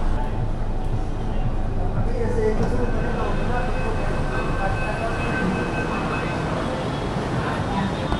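Steady low rumble of a metro train at Dahisar East metro station in Mumbai, continuous and fairly loud, with a faint tone drifting through and no clear voices.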